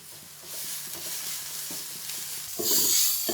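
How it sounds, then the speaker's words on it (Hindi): Fennel seeds, cumin and other spices dry-roast in a pan, giving a steady hissing sizzle with faint stirring scrapes that swells louder and brighter near the end, with no talking. "1 चम्मच सौंफ, 1 चम्मच जीरा। इन सब चीजों को भी हम रोस्ट कर लेंगे।"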